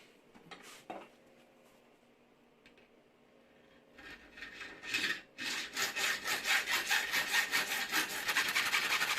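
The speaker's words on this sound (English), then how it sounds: "And just lop these off with a hacksaw." A hacksaw cuts pieces to length for hardware ferrules. After quiet handling and a few knocks, steady close back-and-forth rasping strokes start and grow louder and faster toward the end.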